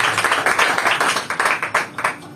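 A congregation clapping hands in praise to God at a church service, a run of loud irregular claps from several people close by, no talk over them.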